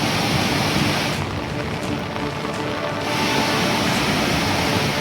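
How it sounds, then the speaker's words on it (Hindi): A flooded waterfall in the Mahad area roars loudly and close as a dense, steady rush of falling water, briefly dipping in the highest hiss before surging back to full strength. "इस झरने को देखिए, गिरते हुए पानी की गूंज बता रही है कि खतरा कितना बड़ा है।"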